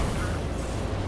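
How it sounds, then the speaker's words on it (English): Explosions from combat in The Surge, an action video game, make a short, dense rumble of blasts. The noise is heavy and muffled and sits under a narrator's voice. "The explosions will hurt"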